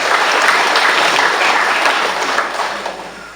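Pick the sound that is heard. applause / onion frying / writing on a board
applause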